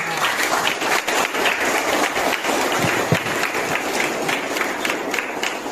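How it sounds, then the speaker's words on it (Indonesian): Students at a high school Youth Pledge day event in Merauke, Papua, applaud together, a lively crackle of many hands clapping steadily for several seconds, fairly close and loud. "Tepuk tangan dulu."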